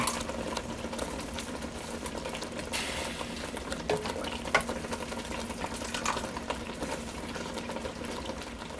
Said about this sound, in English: I'm going to put it in my sauce that's frying.